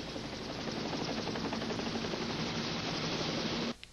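Helicopter approaching during a rescue, a loud steady rotor thump and engine roar that holds continuously, then cuts off abruptly near the end.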